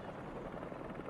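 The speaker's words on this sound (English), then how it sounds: "Something like a helicopter's blades." Helicopter rotor blades in the Marvel's Spider-Man 2 video game, a low, steady pulsing thrum that stays even and fairly quiet throughout a short stretch.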